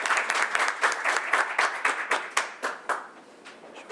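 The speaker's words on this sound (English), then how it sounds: "Now you can clap." A small audience at a board meeting claps steadily for a few seconds, the individual hand claps distinct and close, gradually thinning out toward the end.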